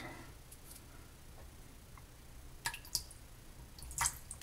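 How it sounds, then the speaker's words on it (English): Soft drips and small splashes of water trickle into a shaving bowl, a few brief bursts against a quiet background. "just a little bit of water to begin."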